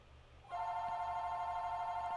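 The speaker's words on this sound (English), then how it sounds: "the phone ringing in the middle of these videos" A telephone bell starts ringing abruptly partway through, a steady, fairly loud electronic ring over quiet room noise, heard during card-game play with no talking.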